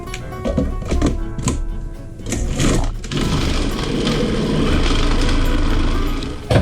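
Small food processor grinding chicken sausage meat with ice chips, starting with irregular knocking and thumping, then settling into a loud, steady labored motor whir.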